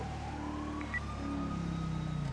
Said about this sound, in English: Why do I hear a siren as well, too?